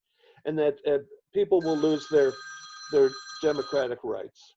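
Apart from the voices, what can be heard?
telephone ringing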